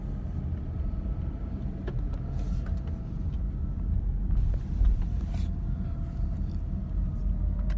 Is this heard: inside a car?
yes